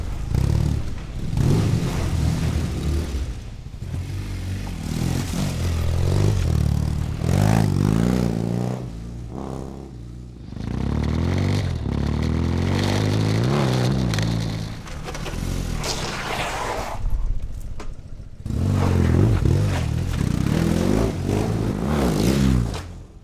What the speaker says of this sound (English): Probably the thing I love the most on my bike, it's the soundtrack. Like it's backfiring when you downshift